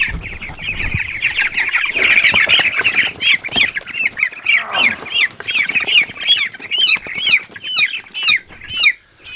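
Young chickens squawk and cluck loudly up close while being grabbed by hand, a rapid, agitated run of repeated harsh calls that grows more broken and frantic toward the end.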